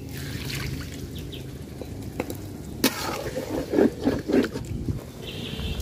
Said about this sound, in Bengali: তো একটু পানি দিয়ে দিলাম